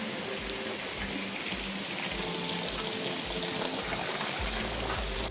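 Steady rain pours down outdoors on a hike to Kiribathgala, a broad continuous hiss of drops on surfaces with trickling water, even and fairly loud throughout with no voices.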